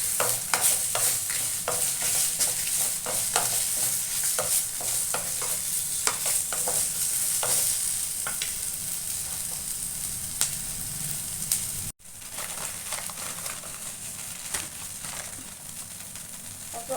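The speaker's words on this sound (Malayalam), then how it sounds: "ഇതിലേക്ക് ഉണക്കമുളക് കേട്ടോ ഞാൻ കുറച്ച് അധികം ഇടുന്നുണ്ട്" Dried red chilies frying in hot oil for an eggplant dish crackle and sizzle steadily, with frequent sharp stirring clicks close by. A brief cut leaves a slightly quieter sizzle continuing afterward, and no voices are heard.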